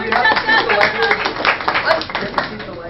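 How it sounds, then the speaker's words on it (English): A small group claps briefly for a woman, with uneven, loosely timed hand claps mixed with overlapping voices and chatter close by. "Give her a clap."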